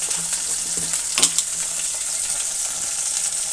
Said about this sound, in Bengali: এখন আমি এর মধ্যে দিয়ে দেবো কিছুটা পরিমাণে জিরের গুঁড়ো।